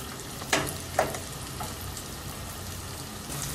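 A vegetable bhaji simmers in a pan with a soft, steady sizzle and bubbling, broken by two brief clinks of a utensil early on, quiet and close.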